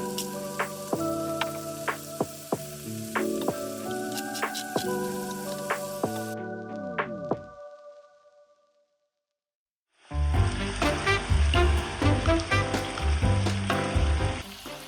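Sausage and ground beef sizzling steadily in a pan in a travel trailer kitchen, loud frying hiss with clinks of stirring, a brief silent gap, then the sizzle returns strongly; no talk.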